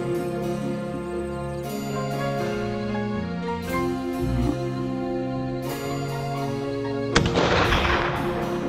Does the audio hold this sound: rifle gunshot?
yes